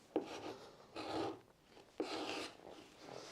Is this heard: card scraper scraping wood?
yes